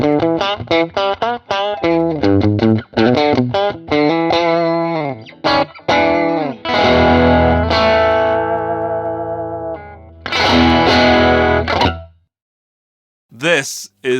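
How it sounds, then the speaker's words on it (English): Distorted electric guitar through a Birdsong Kestrel amplifier, starting with quick choppy staccato strikes, then long ringing sustained chords with effects and reverb, a brief silence and a final short burst, loud and up front. "This is one of the most fun amplifiers I've ever played."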